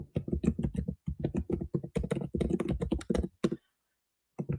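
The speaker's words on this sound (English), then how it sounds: "I just have to type something out here." Rapid typing on a computer keyboard, close and crisp, in quick bursts of keystrokes with short pauses and a silent gap near the end.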